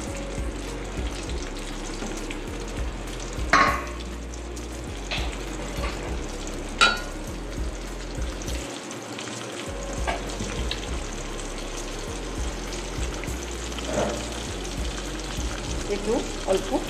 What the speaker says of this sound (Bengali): আর 4টে পটল আমি একে একে ছেড়ে দিচ্ছি।